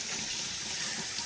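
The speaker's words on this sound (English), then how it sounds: "I'm gonna wash off my scallions or green onions" Tap water runs steadily into a kitchen sink as scallions (green onions) are rinsed under it, a close, continuous splashing hiss with no talking.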